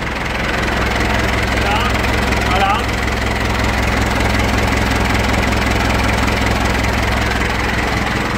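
A car engine idles steadily during thermal descaling, a constant close mid-to-low rumble running throughout with faint speech over it.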